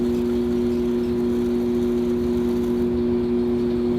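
Electric pottery wheel spinning while a bonsai pot is thrown, a steady loud motor hum with strong tonal whine that holds constant throughout.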